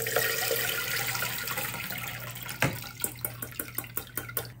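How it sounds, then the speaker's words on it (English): Homemade elderberry syrup poured into a strainer gives a steady liquid trickle that thins out, then a string of distinct drips falling at a regular pace near the end. "we poured that into our strainer"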